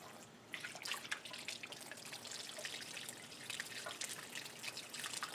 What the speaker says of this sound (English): you do that by opening the flush valve. And almost all the water will go to drain.